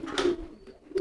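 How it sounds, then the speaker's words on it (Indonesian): A crested pigeon gives two short, close cooing calls with a brief quiet gap between them. "Jadi ini kan ada merpati nih."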